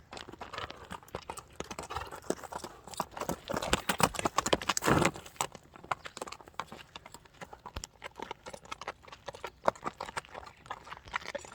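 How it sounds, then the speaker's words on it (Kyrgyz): A horse walks on hard ground, its hooves clip-clopping in a steady, fairly close rhythm with no talk. "Такыратып, мына келатат, жылуу болоду."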